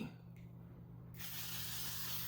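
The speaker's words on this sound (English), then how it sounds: "It's a setting spray." A setting spray goes off in a hissing mist. The hiss starts partway through, holds steady and close, and has no talk over it.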